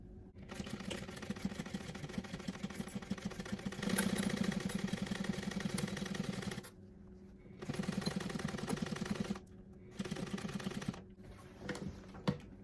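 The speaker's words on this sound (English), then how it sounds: "Now let's sew this at the seam allowance." A sewing machine stitching the seam of a purse through exterior and lining: rapid mechanical whirring runs in several bursts of a few seconds each, separated by short near-silent pauses as the sewing stops and restarts.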